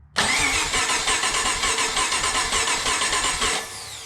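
A 7.0-litre (427 cu in) LSX V8 engine cranks over on its starter with a rapid, steady chugging rhythm for a few seconds, loud and close, then the starter cuts off.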